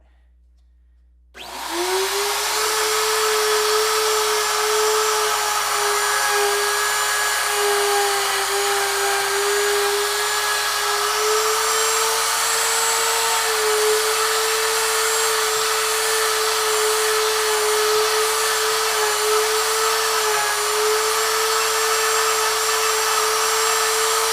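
A power tool starts up and machines the control cavity in a guitar body's wood, a loud, sustained high-pitched whine that holds steady at close range after a moment of quiet.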